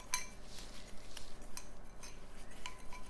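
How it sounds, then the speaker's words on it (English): A seasoning paste whisked together in a bowl makes soft scraping with scattered light metallic clinks of the whisk against the bowl, close and fairly quiet. "I'm gonna whisk this all together and it turns into like this paste."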